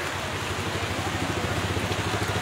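Steady rain falling during an outdoor Good Friday procession, a dense continuous hiss and patter of drops that fills the whole stretch, with a faint low engine-like rumble underneath.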